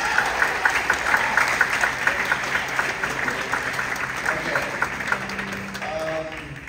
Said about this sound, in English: So can we clap for Jocelyn Murphy?